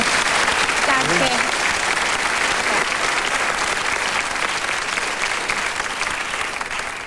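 Studio audience at a German TV quiz show applauds steadily for the full stretch, a dense, loud wash of clapping with a brief voice surfacing near the start.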